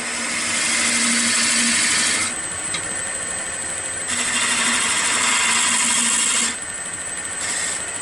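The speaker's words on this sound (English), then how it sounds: "Now, I'm just using a half-inch spindle gouge." Wood turning on a lathe, shaping a baseball bat with a half-inch spindle gouge: steady motor hum under loud, hissing cutting passes that come in bursts of a couple of seconds with short quieter gaps.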